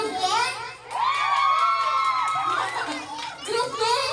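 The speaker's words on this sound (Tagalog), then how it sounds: "palakasan po ng hiyawan kung sino ang panalo" Young grade 1 children at a school closing party shout and cheer loudly as a group, with high-pitched whoops and yells rising and falling in waves across the whole stretch.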